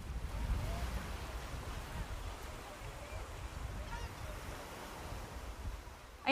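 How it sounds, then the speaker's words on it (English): Ocean waves crash on a shore in a steady, rumbling wash, a low, noisy surge that swells and recedes with no clear breaks. A louder burst arrives right at the end. "The scent of salt water and sound of the crashing waves were soothing."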